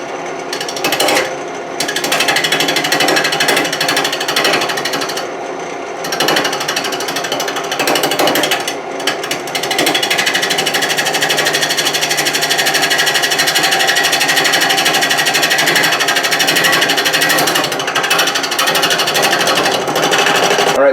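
A wood lathe turns a piece of Australian cypress into a sculpted flower blossom, giving a loud, continuous rattling hum of the spinning wood. Brief dips and gaps break it up, likely where the cutting tool lifts off. No voices are heard.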